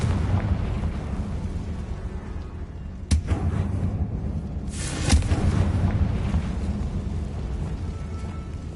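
Two sharp, loud blasts from the Bombarda and Confringo spells in Hogwarts Legacy, set off in a tomb, each burst a few seconds apart over a steady low rumble, with no talking.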